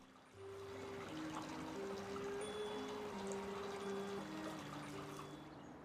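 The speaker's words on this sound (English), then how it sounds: "the sound of the water is just wonderful." Steady trickling water flows and splashes continuously in a garden with a faint tonal hum in the background, calm and close, with no voices.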